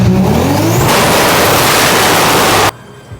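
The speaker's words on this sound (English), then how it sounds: "don't try to bounce on the rev limiter so much" A built Toyota 1JZ engine roars loudly and close as it revs up and bounces against the rev limiter in a harsh, stuttering blare, then cuts off abruptly to a low idle near the end.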